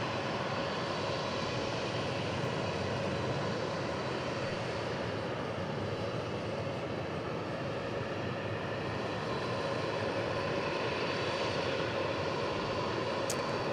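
A British Airways jet takes off at DFW International Airport with a sustained, even roar of jet engines, loud and constant for the whole stretch, with no talking.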